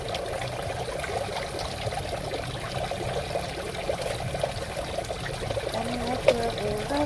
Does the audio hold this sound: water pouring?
yes